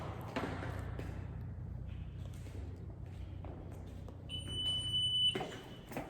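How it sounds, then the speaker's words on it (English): A house alarm system in a vacant home, not set, sounds one steady electronic beep tone of about a second, fairly loud over a low indoor hum with faint footsteps. "Alarm system's beeping because we don't have it set"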